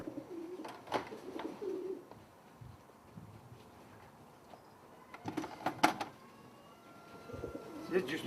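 Stock pigeons in a loft cooing in low, soft bursts, near and fairly faint, with scattered shuffles and clicks between calls and a quiet stretch in the middle.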